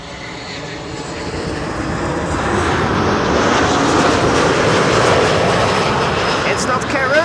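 A Boeing 737 MAX 8 airliner comes in to land on runway 06 at Schiphol, its engine roar building steadily and staying loud and close through the approach.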